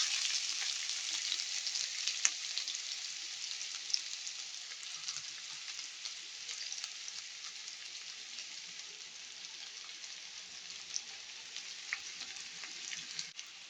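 Onions sizzling steadily in hot oil in a pan with three cardamom pods, a dense continuous crackle and hiss heard close up with faint occasional pops and no voices.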